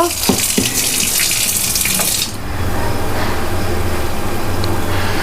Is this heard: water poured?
yes